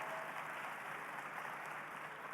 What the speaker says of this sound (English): Give yourselves a round of applause, ladies and gentlemen